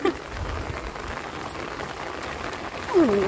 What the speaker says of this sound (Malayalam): മഴ കൂടുന്നു.